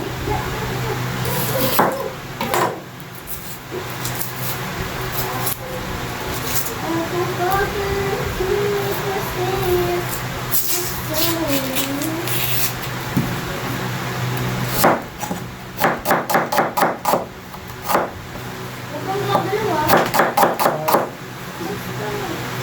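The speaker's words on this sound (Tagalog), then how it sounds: "iwain muna natin yung sibuyas" A knife slices onion on a cutting board in a home kitchen, with bursts of quick close chopping taps under ongoing talk and background cooking sounds.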